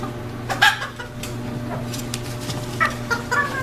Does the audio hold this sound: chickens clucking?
yes